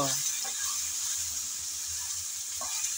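Taro stolons and green chillies are sautéed and stirred in a pan, a continuous close sizzle with soft scraping stirs at the start and end.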